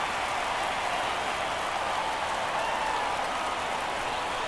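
Broad, steady crowd roar at a rainy Florida ballpark in the baseball game The Show 24, a constant hissing wash of cheering with no clear peaks, moderately loud and continuous throughout.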